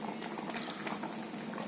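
Sweet corn kheer boils in a pot, a close, continuous bubbling and popping of thick liquid with no voices.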